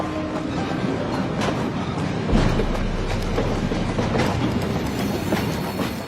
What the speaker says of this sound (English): Now, with the caboose pulling alongside the platform, Smith climbs aboard.